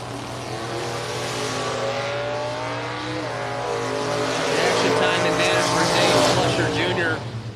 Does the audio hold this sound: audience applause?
no